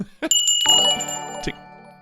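A bright metallic bell rings in two quick strikes, the second ringing out with a long shimmering decay that fades within a couple of seconds.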